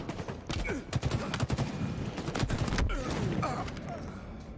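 Gunfire in the Halo Infinite video game, with rapid bursts of shots and sharp cracks in quick volleys over a busy background and a voice speaking.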